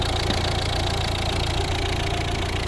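A 2011 Volvo V60 1.6 D2 diesel engine, 115 horsepower with one camshaft and eight valves, idling steadily and close up with an even, continuous drone and no talk.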